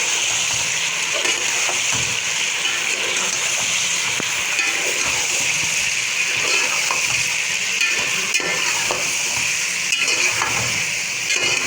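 Whole spices (cinnamon sticks, cloves and cardamom) sizzle steadily in hot oil for chicken Sindhi biryani, a continuous close frying hiss with occasional stirring scrapes throughout.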